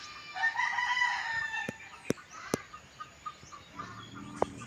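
Backyard chickens cluck and murmur steadily close by while a rooster crows once or twice over them, with a few sharp knocks or taps breaking through near the middle.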